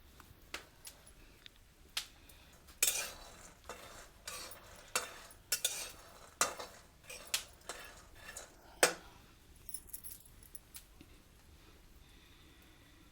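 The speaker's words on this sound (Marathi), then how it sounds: "गव्हाळ गव्हाळ भाजून घेऊया शेंगदाणे" Peanuts dry-roasting in a pan, stirred with a spatula: repeated scraping and clinking strokes at an uneven rhythm over a faint crackle, close by, with no talking.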